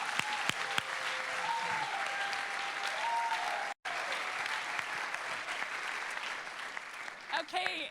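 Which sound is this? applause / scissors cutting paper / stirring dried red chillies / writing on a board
applause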